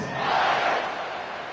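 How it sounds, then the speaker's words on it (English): A college football stadium crowd during a Texas versus UTSA game, a loud broad roar that swells and then eases slightly over a second and a half. "this crowd is buzzing after that last score"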